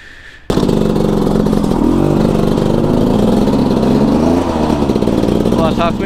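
A supermoto motorcycle engine starts up and runs loud and close for about six seconds, its rough, steady drone rising and falling with revs while someone talks over it.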